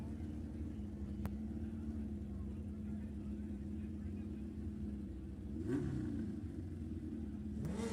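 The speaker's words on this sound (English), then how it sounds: "Round 1 of motorcycles." Motorcycles drag racing at the NHRA Governors Cup, heard as a distant engine rumble that rises in a revving burst near the end, under crowd-like background noise at a night event.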